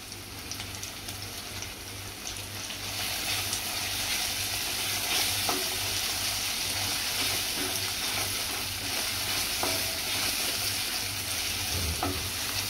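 Grated ginger sautés in oil in a pan for egg bhurji, a close, steady crackling sizzle that grows slightly louder after a few seconds, with occasional soft scrapes of stirring and no voices.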